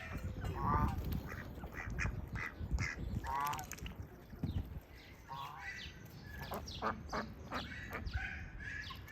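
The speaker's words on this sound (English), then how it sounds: "The geese plunge into the water with all the grace of awkward ballerinas." A flock of geese in a farmyard beside a pool honks repeatedly and loudly at close range, overlapping nasal calls in irregular bursts.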